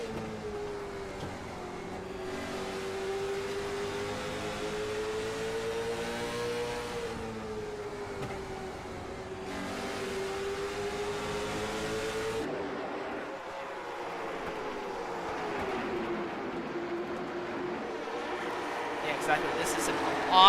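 Onboard view of race cars battling side by side and making contact in a Gaslight Racing League shootout at Southern National: a steady, sustained engine drone whose pitch rises and falls with throttle and gear changes, under commentary throughout.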